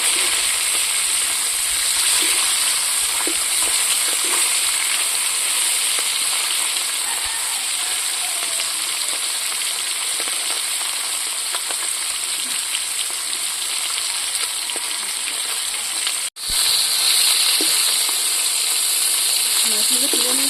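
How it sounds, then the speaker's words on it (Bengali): Pieces of bhola fish fry in hot oil in a pan with a steady, bright, continuous sizzle, loud and close, broken by a single sharp cut-out near the end. "মাছগুলো এইভাবে লাল লাল করে ভেজে নেব।"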